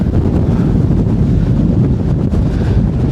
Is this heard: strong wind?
yes